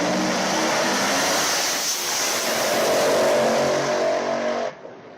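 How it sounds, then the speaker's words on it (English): A drag racing car makes a second-round qualifying pass, a loud sustained roar of engine and rushing noise that swells steadily and then cuts off abruptly near the end, with no talk over it. "This is second round qualifying for Mike Decker."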